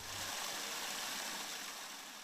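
Water running steadily from a tap on a public water supply fed by pumping stations, a continuous broadband rush heard close and alone throughout.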